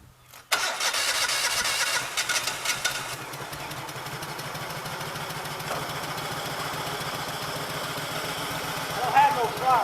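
A Cub Cadet 1650 four-wheel-drive garden tractor engine cranks and catches, then settles into a steady, loud running idle with a brief rev near the end, and a voice is heard faintly over it.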